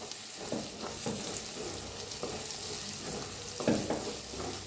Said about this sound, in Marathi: मिक्स करून भाजूया छान असं मसाला चांगला भाजलेला आहे